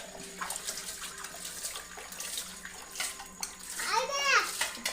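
Water runs from a tap as children wash their hands and plates, a steady splashing under overlapping children's voices and an adult calling out.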